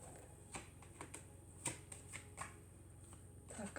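Playing cards are drawn from a deck, giving soft, quiet papery flicks and snaps spaced irregularly, close by with no talking.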